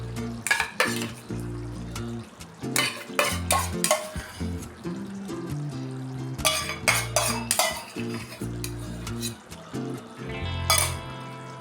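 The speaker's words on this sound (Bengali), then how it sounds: "গ্যাসের ফ্লেমটা কম করে রেখেই আমি টক দইটা একবার ভালোভাবে মিশিয়ে নিচ্ছি" Spoon stirring whisked sour yogurt into Badshahi chicken in a pan over a low gas flame, with clinks of metal on the pan and light sizzling throughout, close and moderately loud.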